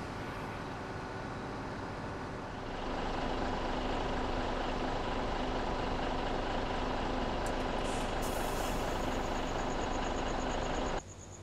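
Truck engines idling on a farm in Farming Simulator 17, a steady low diesel rumble that swells slightly after a few seconds, with a brief hiss near the end before dropping off.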